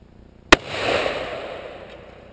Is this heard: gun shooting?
yes